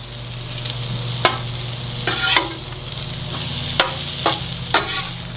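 Bacon and fresh sausage patties frying on a Halo Getaway griddle: a constant close sizzle broken by several sharp scraping and clattering spatula strokes, with no one talking.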